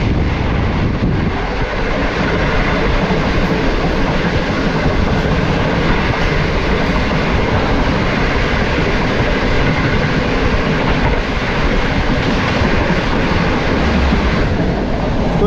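Inside the Green Line Express on the Lahore to Karachi route, the train runs loud and steady as it overtakes the Awam Express at Pattoki station, a continuous rumble with rail clatter and no talk.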